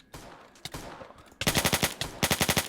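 Rapid bursts of gunfire from a Minecraft gun mod firing pistols, sharp repeated shots in two fast rhythmic volleys after a few scattered earlier pops, loud and close.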